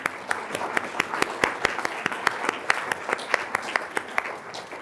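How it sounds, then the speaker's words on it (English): An audience at a university faculty awards ceremony gives a steady round of applause, a dense, even patter of many hands with sharper individual claps standing out at a regular pulse throughout. "let's give them all a round of applause"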